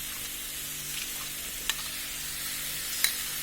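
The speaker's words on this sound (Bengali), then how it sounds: "এখন আমরা এর মধ্যে গুড়টা দিয়ে দিব।" Jaggery being added to a pickle in a pan gives a steady, faint sizzle with a couple of small sharp clicks of utensils, no voices present.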